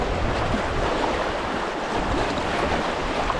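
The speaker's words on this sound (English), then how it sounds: "Looks like some substantial white water on the river right." Steady, broadband roar of white water rapids on the River Spey, a continuous close rushing wash with no breaks and no voices.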